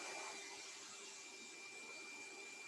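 Pet grooming dryer blowing warm air at a single temperature setting, a steady whining roar of moving air with a thin high tone, constant and unbroken throughout.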